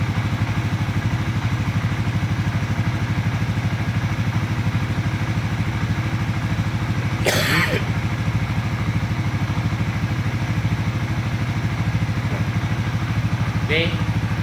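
A Suzuki V-Strom 250 or Yamaha XMAX 250 motorcycle engine runs steadily at low revs during an air-fuel ratio test in a workshop, a continuous close drone with a sharp clatter midway and a faint click near the end.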